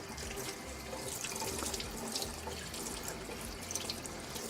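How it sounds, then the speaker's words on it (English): Tap water runs steadily into a sink while cuttlefish is rinsed under it, a continuous broadband splashing rush with no speech over it. "I'm gonna go in and rinse to give this a quick rinse."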